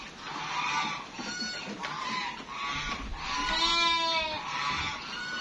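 F1 Dorper crossbred sheep, mixed with full-blood Awassi, bleat in a livestock pen, several wavering calls overlapping at moderate distance among other faint farm animal noises.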